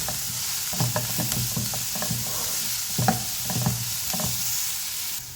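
Chopped onion sautéing with salt in a pan for a moringa leaf thoran, a steady close sizzle with a spoon stirring and scraping in irregular strokes.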